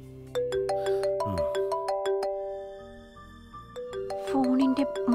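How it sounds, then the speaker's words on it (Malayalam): A telephone ringtone plays a clear, tonal melody of repeated chiming notes at a steady close level, in a domestic scene from a Malayalam TV serial. "ഫോണിന്റെ മണിയടിക്കുന്നു കേട്ടില്ലേ"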